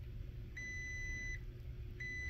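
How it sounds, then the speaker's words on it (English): Two steady electronic beeps from a multimeter continuity test on a Brunswick GSX NexGen bowling machine's CPU board, the first about a second long and the second starting shortly after, sounding clear over a low background hum. "We have continuity. We have a beep."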